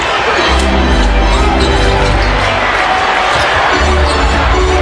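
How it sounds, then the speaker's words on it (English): A packed basketball arena crowd roars and cheers steadily during Kobe Bryant's 81-point game, a continuous loud wash of noise with ball bounces and a commentator's voice running under it. "the crowd's definitely into it"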